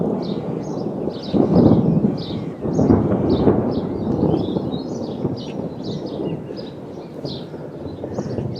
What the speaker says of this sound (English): here's just a little clip from a dry thunderstorm